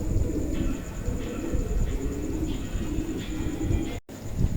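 Mundi pigeons coo over and over in low, throaty, rhythmic phrases, close by and steady throughout, with a brief dropout near the end and no talking.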